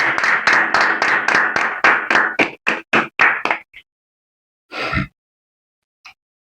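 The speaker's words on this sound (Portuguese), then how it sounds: "Uma salva de palmas para o nosso saudoso" Hands clap in quick rhythm for a sports-chat tribute to the late Iago Melo, loud and close, then slow to a few scattered claps and stop after about four seconds, with one or two stray thumps later.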